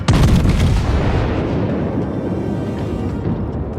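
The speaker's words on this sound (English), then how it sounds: "And there go the secondary guns starting to fire." Secondary guns aboard the USS Massachusetts battleship in World of Warships fire in a dense, loud barrage of booming shots, the heavy rumble strongest at the start and rolling on steadily throughout.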